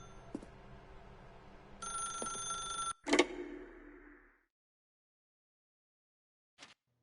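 A telephone rings in the video game The Stanley Parable, a bright electronic ring with a loud burst partway through, then cut off into silence before one faint brief chirp near the end.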